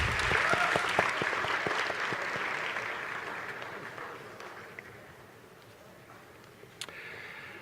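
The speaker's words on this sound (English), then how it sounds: "Let's give a round of applause for our select combined choirs." Audience applause for combined school choirs at a graduation ceremony, a broad, dense clapping that starts full and gradually thins and fades, with a few scattered louder claps near the end.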